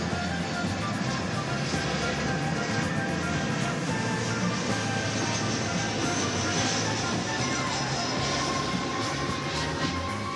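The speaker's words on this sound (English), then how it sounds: "Flight 941 arriving from Monterrey, Mexico, on Airbus A319." An Airbus A319 airliner, Flight 941 from Monterrey, Mexico, arrives at Dallas Fort Worth airport with a broad, steady jet engine roar that holds at a fairly loud, even level throughout, with no talking.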